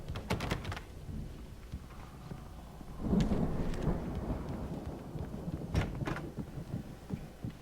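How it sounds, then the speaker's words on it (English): Stormy weather rolls outside in the video game Alan Wake, with low rumbling thunder, a steady rain-like hiss and sharp crackling bursts, the strongest swell near the middle, under an indoor game scene with no talking. "It sounds like a storm is coming up outside or something."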